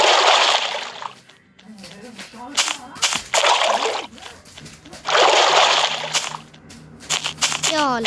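Water splashes loudly from someone swimming, in repeated bursts of sloshing and splatter, near and close, with people talking between and over the splashes.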